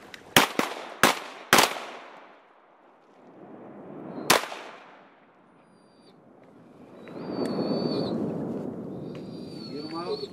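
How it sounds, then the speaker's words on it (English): Shotguns fire during a duck hunt, four quick loud blasts close together followed by one more shot a few seconds later. Splashing and rustling follow, and a voice speaks faintly at the end. "Good shooting, fellas."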